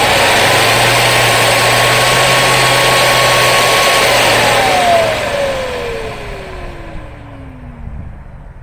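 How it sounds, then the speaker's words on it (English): A Hoover Commercial C1125 vacuum motor runs at a loud, steady whine, then switches off and winds down smoothly, its pitch sliding steadily lower as the sound fades over several seconds. "So let's hear what the motor sounds like now."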